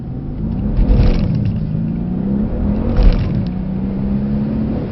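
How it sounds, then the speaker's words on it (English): A Mercedes C63 S accelerates at full power on the road, heard from inside the car. Its engine drone rumbles and climbs steadily, loud and continuous, with rising tones and a couple of shift bumps. "On the power, please. Full power."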